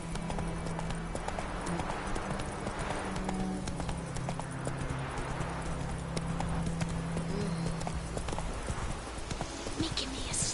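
Roach, a horse in the video game Witcher 3, gallops with a steady, rapid clip-clop of hooves throughout, close and continuous, over a background of ambient game sound, with a voice speaking briefly.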